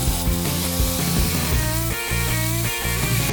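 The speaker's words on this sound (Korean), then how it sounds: "고운 도시락 통이 너무 튼튼해서 잘라내는 게 쉽지 않네요" A sturdy lunch box container being cut open to fit an inner can, for a homemade wood gas lamp, gives a loud, continuous grinding rasp with tonal whine that briefly drops out twice.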